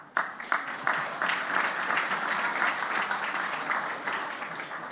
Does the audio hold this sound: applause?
yes